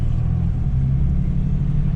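Car nicknamed old Red, likely a Crown Vic, rolling through a shallow wet dip with a steady low engine rumble close by, no splash clearly standing out and no talk.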